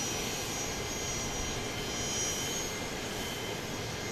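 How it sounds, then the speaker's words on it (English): A business jet at Dallas Love Field at night gives a steady, continuous engine roar with a broad hiss across the whole clip. It stays fairly loud and even, with no talk over it. "There's that BizJet that we saw land a short time ago."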